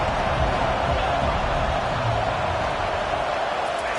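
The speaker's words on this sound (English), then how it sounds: "this crowd is turning it up a notch" A stadium crowd roars in a College Football 25 game. The dense, constant wash of cheering holds at a loud, even level throughout, with no distinct voices breaking through.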